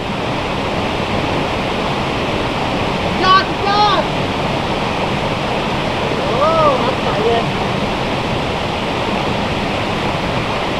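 A natural stream flows steadily along a nature trail, a continuous broadband rush of water that stays even and fairly loud throughout, with faint bird chirps briefly rising above it.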